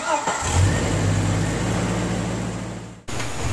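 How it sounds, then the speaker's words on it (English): An old Jeep engine idles steadily at operating temperature, a loud continuous low rumble with a brief rev early on, then cuts off abruptly near the end, leaving a short stretch of quieter background. "So the Jeep's been running for about 10 minutes"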